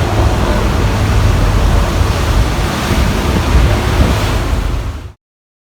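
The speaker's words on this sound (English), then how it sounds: "So we're on the Staten Island ferry now going across the water." Steady roaring wind buffets the microphone over rushing water and waves from the Staten Island Ferry underway in New York City, loud and continuous before cutting off abruptly.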